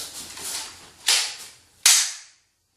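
Two sharp, loud gunshot-like cracks from a handgun sound about a second apart after a handgun disarm, each one dying away in a short echo before the clip ends in silence.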